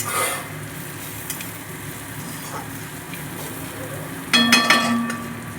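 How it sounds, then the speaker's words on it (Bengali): Onions fry in a little oil with salt, a steady soft sizzle that continues throughout, broken near the end by a louder burst of spoon scraping and stirring in the pan. "পেঁয়াজটা লাল হয়ে আসছে, এবং দেখুন ওই অল্প তেলের মধ্যে যখন পেঁয়াজগুলো ভালো করে মাখা যাচ্ছিল না"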